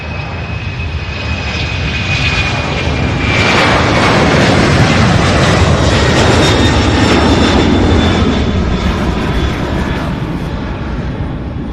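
A Boeing 767 jet at Louisville airport gives a loud, steady engine roar with a faint high whine. It swells slightly as the plane passes close and holds strong throughout, with no talk.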